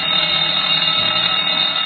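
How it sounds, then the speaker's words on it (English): Alarm clock earmuffs ring in a cartoon, a loud, steady, shrill metallic bell ringing that runs continuously without pause. "With the aid of these alarm clock earmuffs"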